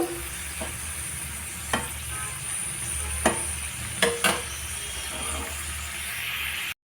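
Pointed gourd frying in oil in a covered pan for a vegetarian Bengali dish: a steady, soft sizzle with a few sharp clinks and taps scattered through, no voices.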